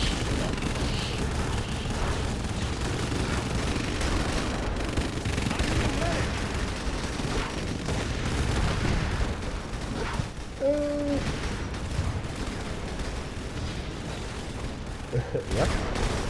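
Artillery bombardment in the real-time strategy game Rise of the Reds, a dense, continuous rumble of distant shelling and explosions layered with battle noise, with a short tonal game alert partway through.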